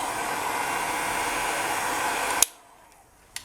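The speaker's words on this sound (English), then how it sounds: "there's a little bit here that hasn't cured, so I'm going to heat gun that quickly" A heat gun curing resin on a necklace blows with a loud, steady airy roar at close range, then cuts off abruptly with a click, leaving near silence and one more faint click.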